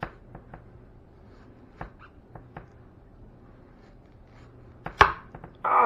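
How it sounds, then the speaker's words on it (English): A knife dicing an onion on a board gives sparse, sharp chopping taps spaced irregularly across a quiet background, with a louder cluster of cuts and a heavier knock near the end. "Alright, crooked pinky here is going to cut up the onion for me."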